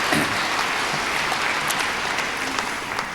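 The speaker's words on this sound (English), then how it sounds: "Yes, you can applaud that" An audience at an archaeology lecture claps steadily and densely for a few seconds, a continuous even wash of hands with no talking over it.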